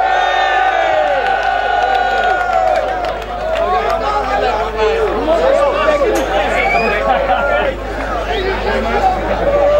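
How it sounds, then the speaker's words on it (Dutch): A crowd at a motocross race cheers and shouts in a dense, continuous roar, loud and close throughout, with many voices blending into excited babble. "Dan zien we applaus, Jacco Masterbroek."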